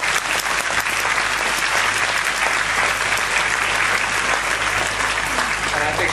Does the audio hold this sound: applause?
yes